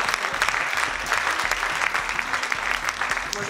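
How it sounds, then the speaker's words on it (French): Audience applause at a business and neighbourhoods charter signing event in Montpellier, dense steady clapping from a room full of people, loud and close throughout. "je propose de vous applaudir"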